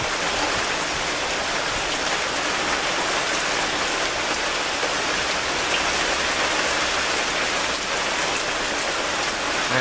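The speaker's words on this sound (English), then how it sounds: "It is absolutely raining cats and dogs and storming like crazy." Heavy storm rain pours down in a dense, continuous roar of drops hitting surfaces, loud and unbroken with no voices.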